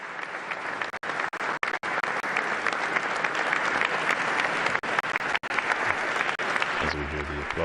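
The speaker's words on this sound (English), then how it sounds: "As we hear the applause, we notice that there is a standing ovation for the Pope's speech." Sustained applause fills a hall at the Quirinal Palace as a crowd gives Pope Leo XIV a standing ovation, a dense, even roar of many hands clapping with a few brief dropouts, fading at the end.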